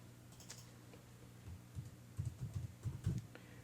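Typing on a computer keyboard, a soft close run of key clicks that starts sparse and grows into a quick cluster of taps over a low steady hum.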